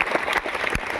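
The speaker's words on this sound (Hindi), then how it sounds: "एक बार जोरदार तालियां।" Audience at a speech event for a JPSC rank holder clapping, brief moderate applause from a hall crowd with a few sharper individual claps standing out.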